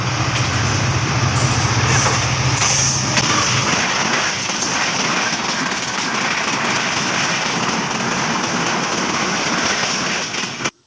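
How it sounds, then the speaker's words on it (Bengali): A train approaching and rolling past close by, its steady heavy rumble and rattle of wagons filling the whole stretch at high level, with a low drone early on and no talk. "ট্রেন কিন্তু সামনে আসছে"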